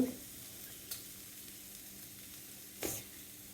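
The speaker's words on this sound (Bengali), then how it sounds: "উস্তা কেটে রেখেছিলাম রাত্রে, এখন ভাজি করছি" Sliced bitter gourd (ucche) frying in a pan on a gas stove, giving a steady soft sizzle with a couple of brief stirring scrapes, close and fairly quiet, with no one speaking.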